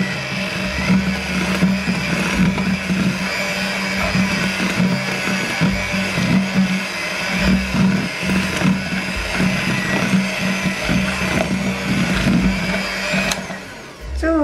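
An electric mixer beats chocolate brownie nastar cookie dough with a loud, close, continuous motor whir that wavers slightly as it works and cuts off briefly near the end.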